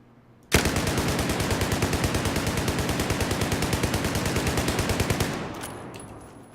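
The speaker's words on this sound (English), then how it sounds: "we'll go ahead and start out with the hip fire without countering your recoil" A U-100 MK5 machine gun in Battlefield 4 hip-fires one long sustained burst of rapid, evenly spaced shots, loud and close, stopping abruptly near the end with a short fading tail.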